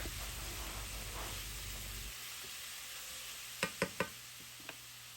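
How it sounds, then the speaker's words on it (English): Meat and vegetables sauteing together in a pan on a stovetop for a Philly cheesesteak pasta, a soft steady sizzle that fades partway through, followed by a few sharp clicks of a utensil. "just saute the meat and vegetables together."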